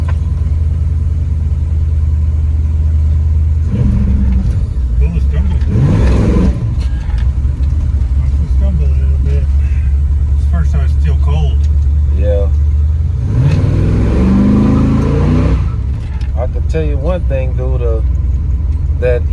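A Monte Carlo SS engine rumbles, revs and accelerates from inside the vehicle, with a steady low drone that swells during throttle surges, while people talk over it throughout.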